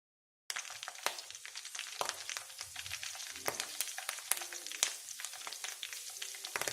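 Ghee bubbling and frying in a pan with drumstick leaves, a steady close sizzle with dense crackling pops that starts abruptly and runs throughout with no talk.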